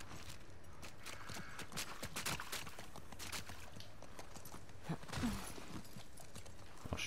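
Hooves clip-clop in a quick, steady rhythm as a horse moves along in The Last of Us Part II, with faint game background noise and a brief low snort.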